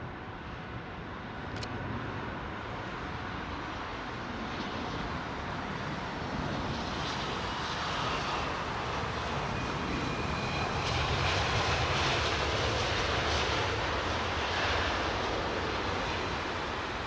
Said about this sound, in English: Cathay Pacific 747 freighter.